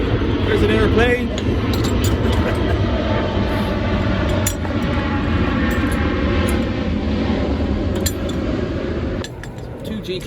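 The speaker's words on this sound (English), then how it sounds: "There's an airplane." An airplane passes overhead as a steady broad drone through the whole stretch, heard outdoors during brake pad work on a first-generation Nissan Leaf. Sharp metallic clinks and taps break in at intervals, and the drone fades slightly toward the end.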